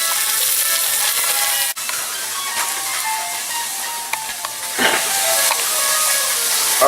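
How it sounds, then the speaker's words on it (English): Garlic and red onion sweat in a pot with a steady, close hiss and sizzle, punctuated by a few soft clicks and clatters of utensils, no voices. "you're going to sweat the garlic and the red onion down until they're a couple minutes"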